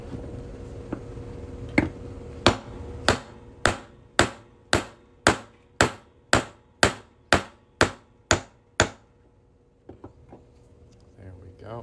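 A hammer strikes a metal center punch on a silver coin about a dozen times in a steady rhythm, each sharp metallic clink ringing briefly, close up, followed by a quiet pause.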